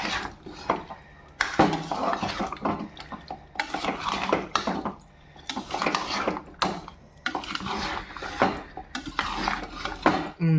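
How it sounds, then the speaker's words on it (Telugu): Spicy Andhra chicken fry is turned in a pan, with repeated bursts of metal utensil scraping and clattering against the pan in uneven groups, loud and close. "అది ఒక్కసారి మనం మెల్లగా తిప్పుకుందాం."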